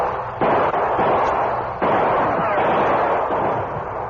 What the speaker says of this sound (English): The outlaws were between Bert's gunfire and that of the Lone Ranger and Tonto.